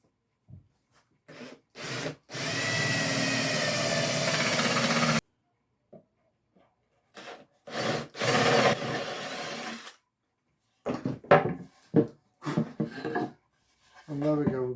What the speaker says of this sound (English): And we can drill from this side.